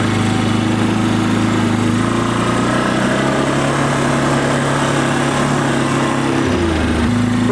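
A Can-Am Outlander 450 ATV engine runs steadily and loud throughout, a droning hum that dips and shifts pitch briefly near the end.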